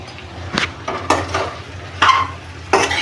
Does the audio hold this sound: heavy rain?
no